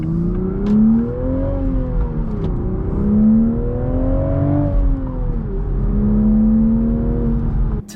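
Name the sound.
manual Toyota Supra engine revving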